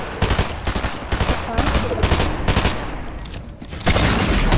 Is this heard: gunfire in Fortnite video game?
yes